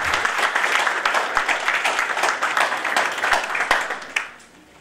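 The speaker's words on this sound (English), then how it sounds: "give yourselves a round of applause" An audience at a Grenadian Prime Minister's community event in New York City gives a loud, dense round of applause that holds steady, then tapers off sharply near the end.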